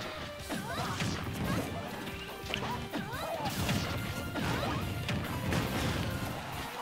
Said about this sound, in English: He's throwing out smash attacks now.